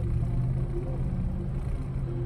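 Steady low rumble of a car engine idling close by, constant and droning with no talking over it.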